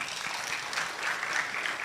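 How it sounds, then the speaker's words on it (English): An audience at a management day celebration claps for a panel, dense steady applause from many hands filling the whole stretch without pause. "a bigger round of applause for my panelists"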